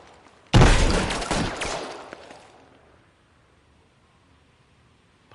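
A single loud burst of gunfire in LA Noire Remastered hits suddenly and rings out for about two seconds, then fades into a quiet tail.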